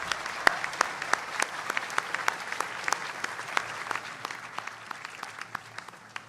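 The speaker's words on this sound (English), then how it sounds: "So a round of applause for all of our Annenberg colleagues." A round of applause from the audience at the grand opening of Wallis Annenberg Hall, honoring Annenberg colleagues: a moderate indoor crowd claps in a steady, crisp patter, individual claps standing out, continuing evenly throughout.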